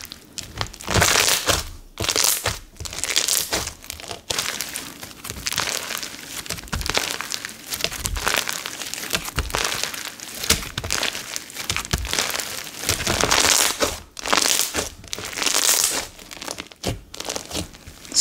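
Purple white glue slime with silica beads squished and pressed close up, a steady run of loud, dense crinkly crackles and pops without pause.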